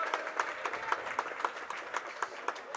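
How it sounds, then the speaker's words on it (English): Crowd in a high school boys' basketball gym clapping for a couple of players, a light, fairly distant patter of applause with regular sharp claps standing out. "Nice applause for a couple of players"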